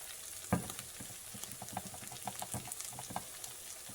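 Corn sizzling in melted butter in a pan, a soft steady crackle with scattered pops and a few stirring scrapes, close by and moderately quiet with no talking.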